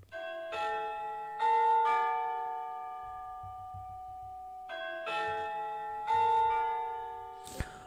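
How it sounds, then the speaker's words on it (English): Bells ring in slow successive strikes, each tone ringing out and decaying with long resonance, moderately loud with a faint low rumble beneath. "I don't have a doorbell, but I have church bells"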